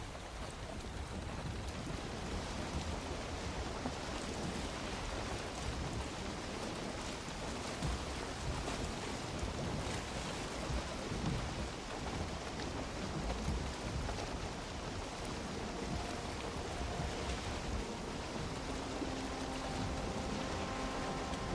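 Boat sailing through rough weather in Valheim, a continuous wash of water and rain-like noise with wind, moderately quiet and unbroken for over twenty seconds, no talk.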